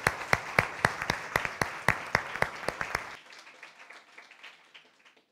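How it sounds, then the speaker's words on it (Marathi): A church congregation claps in unison, about a dozen rhythmic, fairly quick claps, then breaks into scattered, softer applause that fades away. "आपल्या तरुणांबद्दल टाळ्या वाजवून देवाला धन्यवाद देऊया."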